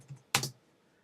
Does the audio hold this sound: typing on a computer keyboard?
yes